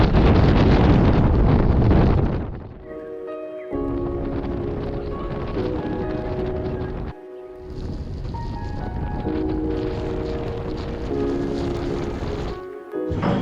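Strong gusts batter the microphone on an exposed mountain ridge, roaring loudly in long rushing waves with brief lulls between them, alone without any talk.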